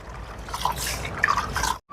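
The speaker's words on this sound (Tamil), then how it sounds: "இதில் பருப்பு எடுத்துருக்கிறேன், கழுவுவோம்." Lentils are rinsed by hand in a bowl of water in a home kitchen in Jaffna, with close, soft splashing, squishing and dripping that ends abruptly.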